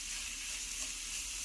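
Cabbage and mixed vegetables stir-fry for egg fried rice, a steady, close sizzle that holds evenly throughout with no voices.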